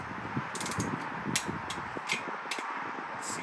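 A ratchet wrench snugging up bolt heads and nuts during a Ford 4.6 engine rebuild gives off a steady series of light metallic clicks and ticks, close by and moderately quiet, with no talking.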